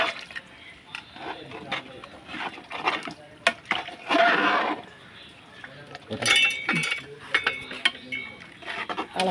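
Metal lids and pans clatter and clink irregularly in a busy hotel kitchen while a large pressure cooker is being covered, with scraping and liquid sounds and talk in between.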